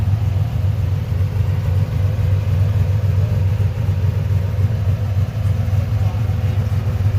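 Deep, steady rumble of a Chevy truck engine idling nearby, with a lopsided low throb that holds constant for several seconds and no clear voices over it.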